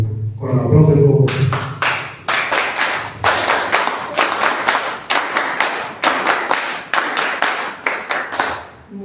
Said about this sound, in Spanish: Con el aplauso de todos.